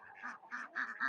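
A flock of ducks kept alongside chickens quacking in a quick run of four or five nasal calls, moderately close and fairly clear, with no voices over them.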